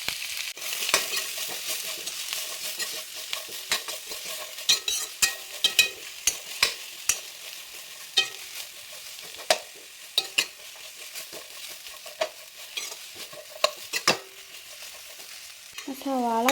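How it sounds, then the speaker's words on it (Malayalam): Two large sliced onions sauté in a pan for paneer dum biryani. A steady close sizzle runs under frequent sharp clicks and scrapes of a spoon stirring, with no talking. "ഇത് നമ്മളൊരു 2 വലിയ സവാള തിന്നായിട്ട് സ്ലൈസ് ചെയ്തതാണ് കേട്ടോ. അതും കൂടി നമുക്ക് ഇതിലോട്ട് ആഡ് ചെയ്ത് കൊടുത്തിട്ട് നന്നായിട്ട്"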